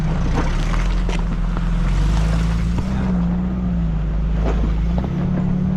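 Steady engine drone from a modified Tracker off-road vehicle crawling up rough shale rock, with low rumble, some wind buffeting and faint knocks from the bumpy ground.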